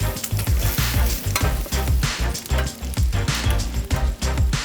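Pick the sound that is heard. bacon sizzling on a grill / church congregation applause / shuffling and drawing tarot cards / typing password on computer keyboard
bacon sizzling on a grill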